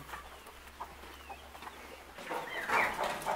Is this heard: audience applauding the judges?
no